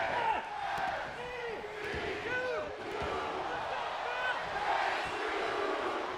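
Wrestling crowd in the WWE 2K23 video game roars and cheers steadily throughout a match, a dense, continuous arena din with rising whoops.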